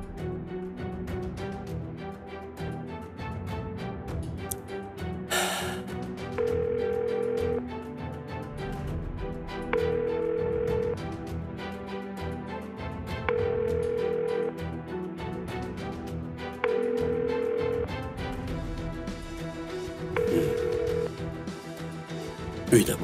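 Ringback tone of an unanswered phone call in an Uzbek TV drama series: a low beep repeats every few seconds, five times, beneath a busy musical score.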